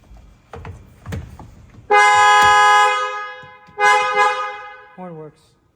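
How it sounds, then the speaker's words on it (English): A BMW M4 Competition car horn blares loudly twice, with a short final toot after, following some handling noises at close range. "Horn works."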